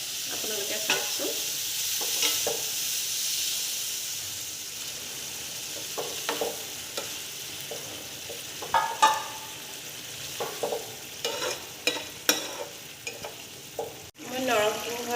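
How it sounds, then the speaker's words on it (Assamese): Water poured into soybean curry frying in a pan brings a loud hiss that fades into steady sizzling, followed by scattered clinks and stirring scrapes close by. "মই পানী অকণ দিম এতিয়া।"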